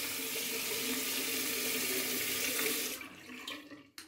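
Tap water runs in a steady, loud, broad rush for about three seconds while soap is being made, then cuts off, leaving a few quiet drips and handling noises.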